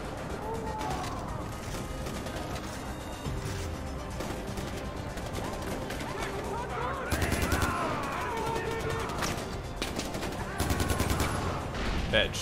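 Gunfire from the video game Far Cry 4 rattles in repeated bursts of machine-gun and single shots, growing louder near the end, with players' voices in the mix.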